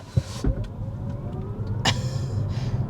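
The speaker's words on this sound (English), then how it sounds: "let's go ahead and start with a hard acceleration" A 2023 Hyundai IONIQ 6 electric car accelerates hard with a rising motor whine building steadily, along with interior rumble and a couple of sharp clicks.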